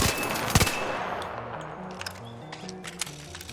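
Bobcat gun in ARC Raiders firing in a dense automatic burst on a PvP training range, with one loud shot near the start, then rapid shots decaying into echoing tails, no voices.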